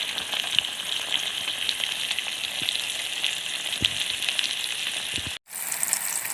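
Eggplant slices fry in hot oil with a steady, dense sizzle that carries on alone, cutting out for a brief moment near the end before resuming.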